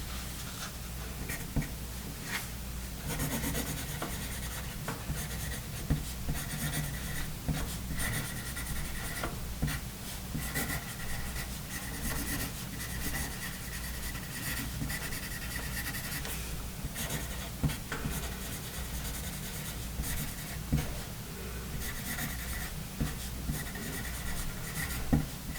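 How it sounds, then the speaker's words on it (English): A Pen and Gear No. 2 wood pencil scratches across paper in continuous writing strokes, close and dry, with short pauses between words and no talking. "Now let's try some writing here."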